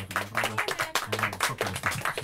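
An audience claps in quick rhythmic bursts during a Polish-language show, with voices mixed in among the clapping.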